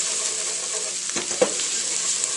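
Steady hiss of minced garlic frying in a pan while being stirred constantly, with a couple of distinct scraping strokes partway through against the continuous sizzle.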